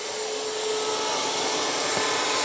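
Bissell CrossWave cordless wet-dry vacuum, model 2554A, running on carpet in vacuum-only mode, a loud, steady close-up motor whine and airflow hiss with no pauses.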